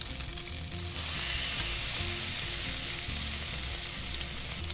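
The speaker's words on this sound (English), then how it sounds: "because your pan is warm already, the second set will cook more quickly" French toast frying in a warm pan, a steady close hiss of sizzling that runs throughout with a faint low hum beneath, no voices.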